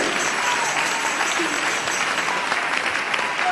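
A church congregation applauds for Jesus, a thick, continuous wash of many hands clapping at close range, steady and unbroken from start to finish.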